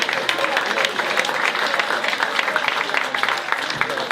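A comedy club crowd claps steadily and loudly, a thick wash of hands with a few voices mixed in.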